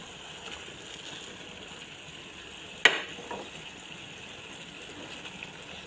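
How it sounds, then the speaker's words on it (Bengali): Chicken pieces tipped into a pan of frying spice masala for a spicy chicken bhuna give a sudden sharp sizzle burst, then a softer hiss that fades back into a steady low frying noise, with no talking. "এখন আমি এই চিকেনগুলো দিয়ে দিব, যেহেতু মশলাটা অনেকটা হয়ে আসছে।"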